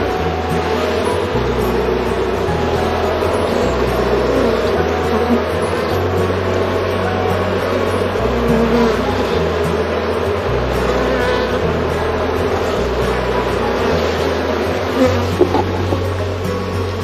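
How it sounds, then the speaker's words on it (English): Honeybees at a backyard hive entrance hum in a steady, dense buzz of fanning wings, loud and close throughout with a low rhythmic drone underneath and no voices. "She's doing what they call releasing pheromones, so her butt's in the air and she's flapping her wings."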